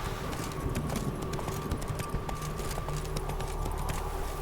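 Roach, a horse in The Witcher 3, gallops with a steady, rapid clip-clop of hooves under a constant low rumble of movement, close and continuous throughout.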